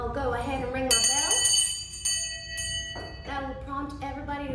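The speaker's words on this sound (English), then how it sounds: "I'll go ahead and ring my bell." A school hand bell rings out in several bright, sustained clangs with a long ringing decay, starting after a few words from a speaker and sounding between stretches of talk.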